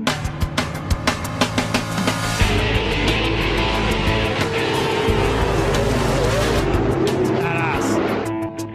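Off-road race trucks roar away at the start of a Baja race, a loud, continuous wall of engine noise that swells and holds, with clattering and mechanical noise mixed in.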